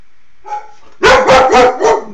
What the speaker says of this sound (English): Who's barking like that?